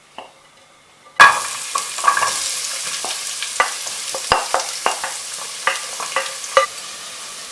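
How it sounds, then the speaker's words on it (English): Onions hit hot vegetable oil in a pot on medium heat with a sudden loud sizzle, then a steady frying hiss broken by repeated stirring scrapes and clicks. "I've set the cooker on medium heat and I'm about to add in the onions"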